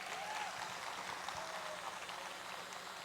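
Faint, distant applause from parents at a school annual day performance, a soft continuous patter of many hands clapping, heard from far back in a large hall.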